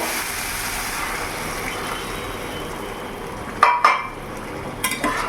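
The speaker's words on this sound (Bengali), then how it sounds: "এবার এরই মধ্যে আমি এখন গরম জল দিয়ে দেবো" Hot water hits a pan of fried curd mixture for a pointed gourd dish, giving a steady broad hiss with two sharper sputtering bursts near the end, no voices.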